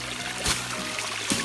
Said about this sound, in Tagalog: Ito may sapa dito.